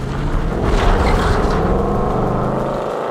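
A Ford Mustang California Special pulls away by the seaside, its engine a loud, close, steady rumble that eases slightly as the car moves off.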